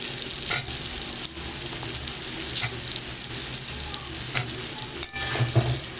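Potatoes, long beans and ridge gourd are stir-fried in a pan, giving a continuous close sizzle broken by repeated scraping stirs, with no talking.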